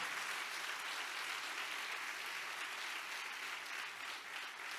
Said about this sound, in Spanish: Dale fuerte el aplauso a Cristo, aleluya.